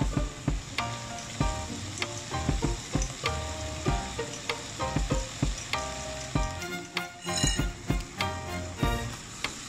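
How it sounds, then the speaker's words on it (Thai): Squid and shrimp stir-fried in a hot pan for a curry-powder seafood dish, with steady sizzling and frying under repeated scraping and clinking strokes of a utensil against the pan, close and fairly loud. "ก็ทำการผัดรวนไป ให้หมึกกับกุ้งเราสุกนะครับ"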